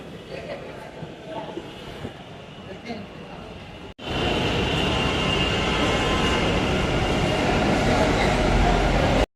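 A Kolkata metro train inside a station, its loud, steady rumble cutting in abruptly partway through after quieter station ambience with faint voices.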